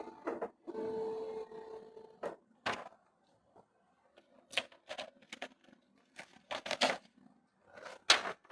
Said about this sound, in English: we try to check nozzle again